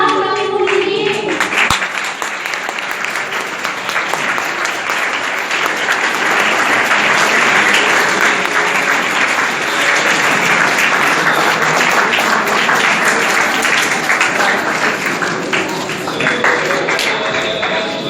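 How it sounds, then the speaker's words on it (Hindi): Big, sustained applause from an audience greeting guests at a certificate distribution ceremony, a dense wall of clapping that stays loud and steady for the whole stretch. "Applause, big applause."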